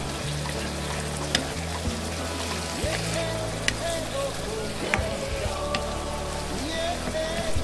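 Food fries in a pan with a steady, dense crackling sizzle, spread across the whole stretch with scattered sharper pops and a faint low hum underneath.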